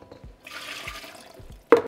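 Broth poured into a large pot of birria de res, a soft splashing liquid pour sustained through the middle, ending in a brief louder splash, with a few low thumps from the pot.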